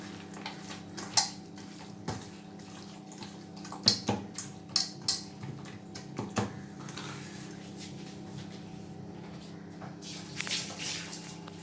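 Chicken pieces are stirred in a pot, giving soft wet squishing and scraping with scattered clinks of spoon against metal, faint and intermittent, before the pot is set aside; no talk.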